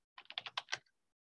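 A short, quick burst of about seven keystrokes on a computer keyboard, close and crisp, then silence.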